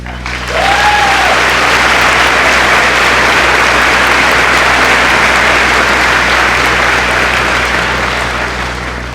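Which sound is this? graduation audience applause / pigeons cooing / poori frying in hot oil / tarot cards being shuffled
graduation audience applause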